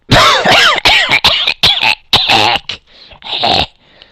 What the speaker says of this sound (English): Got a little cough going there.